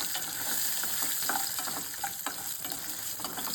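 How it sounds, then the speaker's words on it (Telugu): Dry red chillies, garlic cloves and curry leaves frying in hot oil as a tempering, a dense continuous sizzle with crackling pops and light stirring close by. "4 వెల్లుల్లి రెబ్బలను కూడా వేసి కొద్దిగా కరివేపాకుని వేసి లైట్గా దోరగా"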